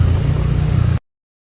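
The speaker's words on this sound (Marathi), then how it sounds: "इकडे ट्रॅफिक बघा" Road traffic in Bhiwandi rumbles as a deep, steady engine drone for about a second, close and loud, then cuts off abruptly to silence.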